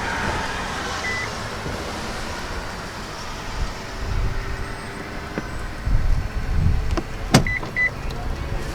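Soft electric whir of the power-return folding seat motor in a 2019 Infiniti QX60 Limited, running steadily under faint cabin ambience, with a few short clicks and a chime near the end.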